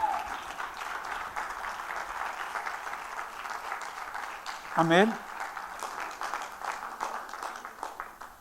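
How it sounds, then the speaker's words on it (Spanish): Church congregation clapping during an Easter service, a soft, steady patter of hands throughout with a short spoken response rising briefly above it midway. "pues dele palmas al Señor"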